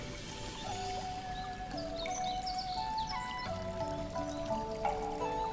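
A creek in the video game Fate Seeker flows in a continuous, even rush of trickling water, with melodic game music layered over it and no talking.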